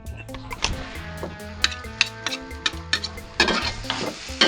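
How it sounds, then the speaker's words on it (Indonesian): Vegetables with spice paste, kaffir lime leaves, a little stock, salt and sugar are stir-fried in a pan, with a steady sizzle broken by repeated sharp scrapes and clanks of a utensil stirring against the metal. "Kita goreng-goreng terus sampai dia keluar bau segarnya, udah matang gitu ya."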